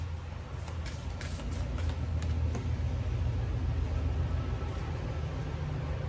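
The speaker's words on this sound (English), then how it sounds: "Sorry for the traffic in the background." Road traffic rumbles steadily in the background, a continuous low wash of car noise that swells slightly midway and never stops, with no voices over it.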